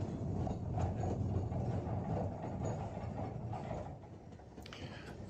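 Ffestiniog Railway gravity train coasting along narrow-gauge track, a continuous close rumble of wheels with rattling carriages and scattered clicks and squeals.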